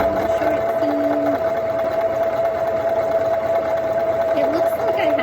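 A sewing machine stitches a short seam on a fabric mask, a steady close mechanical hum with a fast even whirr running throughout under a person talking.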